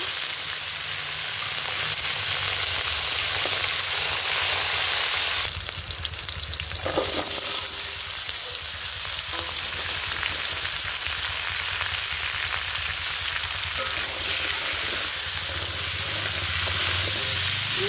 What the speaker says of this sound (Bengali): আমি সবজিগুলো আগে ভেজে নিচ্ছি